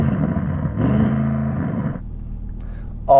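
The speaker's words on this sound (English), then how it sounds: "Let's rev up the Audi RS6 to see if it can sound better than this naturally aspirated V10" Audi RS6 engine rev, a loud droning engine note with stepped harmonics that rises and then drops back to a lower idle rumble, ending with a sudden louder burst.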